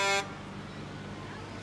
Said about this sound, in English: it sounds like CSX is Yes. here with the unnecessary horn honking